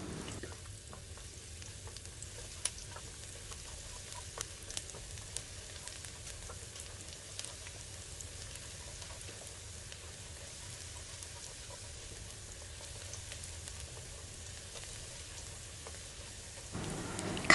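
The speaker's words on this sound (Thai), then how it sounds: "ตั้งกระทะใส่น้ำมันลงไปเล็กน้อยค่ะจากนั้นก็ใส่กระเทียมลงไปเจียวกระเทียมไปจนกว่าจะส่งกลิ่นหอมขึ้นมาค่ะ" Garlic fries in a little oil in a wok, giving a soft, steady sizzle, faint and continuous with a few small crackles, no voices.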